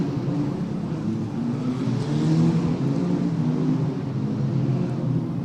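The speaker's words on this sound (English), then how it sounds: "The engine revs rise" Eurocup-3 race car engines rev steadily at Paul Ricard on the starting grid, a dense, continuous, fairly loud low roar with no voices.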